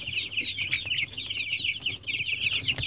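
Young chickens cluck and cheep in a busy overlapping chorus of short, high calls, close by and fairly steady, with no talking.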